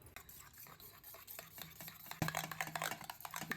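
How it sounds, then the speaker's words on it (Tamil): Red chilli sauce and tomato sauce being stirred together in a bowl with a spoon, giving close, steady scraping and clinking with a louder clatter near the end, no voices. "இது மூணுத்தையும் வந்து நம்ம கொஞ்சம் மிக்ஸ் பண்ணிக்கலாம்."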